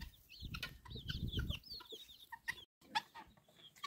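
Young chicks kept indoors at night and outdoors by day, a close, busy chorus of high peeping chirps and soft clucks in quick irregular bursts, with some low rustling underneath.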